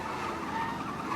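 Race car engines droning with tire squeal on the final lap of a race in the Mafia Definitive Edition video game, a steady, loud buzzing roar with a thin squealing tone over it.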